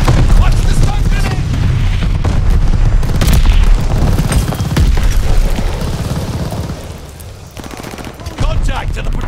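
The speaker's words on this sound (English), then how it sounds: "Friendly bombing run inbound." Heavy bombs from a friendly bombing run thunder in Call of Duty: Vanguard, a dense barrage of booming blasts and rattling gunfire that rolls on loud, easing slightly before a final burst.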